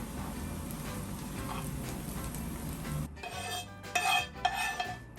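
Spoon scraping and stirring through fried vegetables and boiled borscht broth in a metal pot, a steady rasping clatter that grows louder in short bursts toward the end, with no voices.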